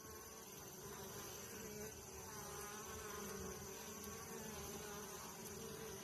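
Honey bees buzz around a hive as they are fed, making a steady, dense, low drone of many wings that stays faint and even throughout with no talking.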